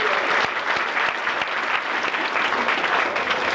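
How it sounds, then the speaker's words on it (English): Dense, sustained applause fills a school gymnasium during an elementary school 5th and 6th grade graduation, a continuous wash of many hands clapping at steady loudness with no speech over it. "I think we should applaud Edward anyway."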